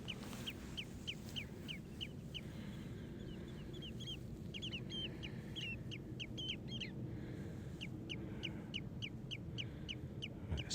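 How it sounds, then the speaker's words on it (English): A bird at Ballantrae nature reserve in Scotland gives a long run of sharp, repeated chirping calls in quick bursts, fairly faint and a short way off, over a low steady background rumble. "somewhere in front of me there's a bird. It's making a noise"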